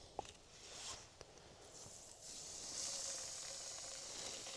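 White bass pieces sizzle in hot frying grease, a steady bright hiss building slightly over time, with a couple of sharp pops near the start; no talking.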